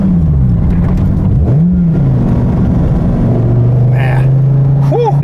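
A Gen 5 Dodge Viper ACR accelerating hard, its engine roaring loud and close as the revs climb, dip and climb again, with a voice talking over the noise.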